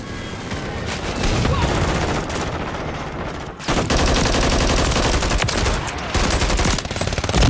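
Dense, rapid gunfire from a Call of Duty match: near-continuous loud bursts and shot volleys with a brief gap midway, then heavy firing again.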